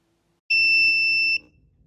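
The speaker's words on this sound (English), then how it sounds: "you'll hear the buzzer and the vibration motors run to warn me" A driver drowsiness alarm sounds: a loud, steady electronic buzzer tone for just under a second with a low rattling hum of vibration motors beneath it, then cuts off abruptly.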